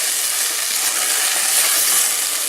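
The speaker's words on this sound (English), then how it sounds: "Just keep moving the onions around, keep them from burning." Onions frying in a pan for French onion soup while being stirred and moved around, a steady close sizzle and crackle with no break throughout.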